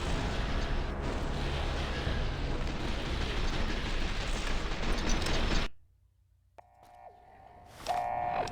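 Grenades exploding in Fallout: New Vegas make a loud, continuous roaring blast that lasts several seconds, then cuts off abruptly to near silence, followed by faint tonal game sounds.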